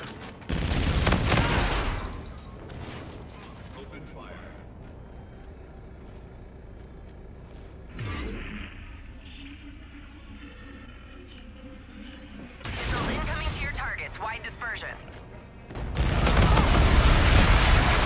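Video-game artillery bombardment booms out in heavy bursts of explosions and rapid gunfire, loud at the start and again near the end, with quieter battle noise between and brief radio-style voice callouts.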